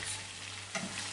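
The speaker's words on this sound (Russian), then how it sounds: "Как-то вот так примерно мы жарим, зажариваем наши вкусняшки, наши рыбные котлеты." Steady crackling sizzle of fish patties made from ide frying in hot oil, close and continuous, with a brief soft bump partway through.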